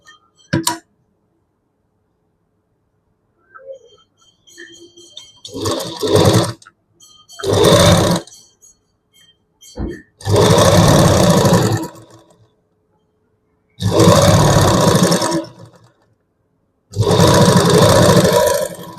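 Sewing machine stitching a small tuck into cloth, running in four or five separate bursts of a few seconds each, close and loud, with a few faint clicks and handling sounds in between.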